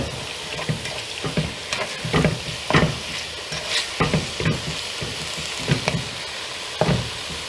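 Ground beef browns in a hot pan for a Jamaican-style curry, a dense close sizzle punctuated by repeated knocks and scrapes of a wooden spoon stirring the meat, with no voices.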